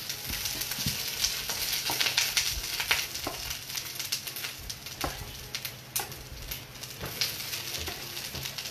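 Sliced zucchini sizzling and frying in a little oil in a pan, a steady crackling hiss broken by scattered pops and the scrape of stirring, close and fairly loud with no talk.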